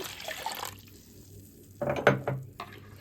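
A glass of water is poured briefly into a bowl of jaggery and mint juice, a short splashing gush after a quiet stretch, close and clear.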